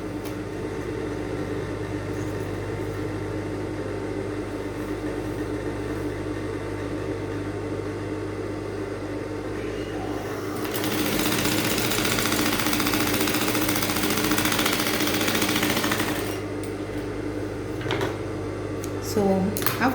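A sewing machine stitches along a fabric edge while encasing boning, a steady mechanical hum with a louder run of stitching in the middle, with a voice talking over it.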